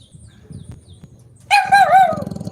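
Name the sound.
dog barking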